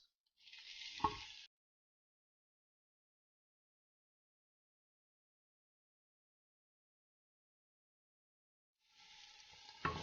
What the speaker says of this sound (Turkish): Hepsini beraber bir süre kavurduktan sonra yarım su bardağı su ilave ediyorum.